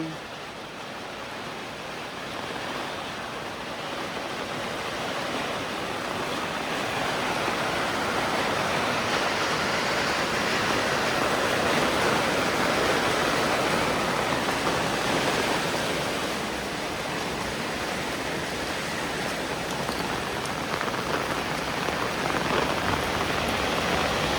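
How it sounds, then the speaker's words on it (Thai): Heavy rain pouring down steadily for a long stretch, a dense loud hiss of large drops on surfaces that swells slightly in the middle and never lets up. "ความฝันก็เป็นจริงแล้วฝนตกพี่น้อง"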